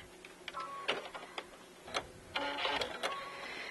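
A sewing machine stitches fabric for a window treatment up to a folded crease, then backstitches: quiet, intermittent bursts of fast mechanical whirring with brief pauses between runs.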